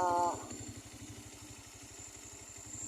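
A CBR motorcycle engine idles close by with rapid, even low thumps, and a brief voice is heard at the start.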